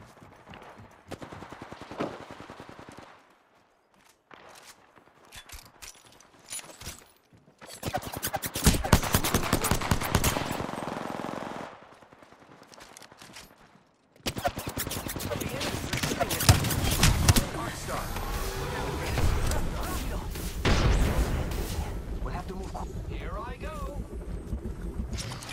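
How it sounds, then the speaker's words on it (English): Apex Legends firefight, with bursts of rapid automatic gunfire that come and go through the stretch, dense and loud in long runs between quieter gaps, and a voice speaking over parts of it. "I am taking fire, friends."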